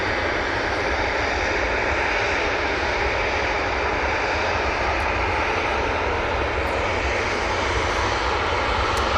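KLM airliner jet engines roar steadily at Manchester Airport, a loud, continuous broadband rush close by with no voices over it.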